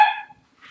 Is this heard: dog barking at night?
yes